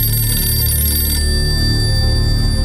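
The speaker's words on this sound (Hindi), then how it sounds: "आखिर तुम फोन क्यों नहीं उठा रहे इस्माइल?" An unanswered telephone rings in a TV drama serial, a bright sustained electronic tone loud and close, running unbroken with no voices.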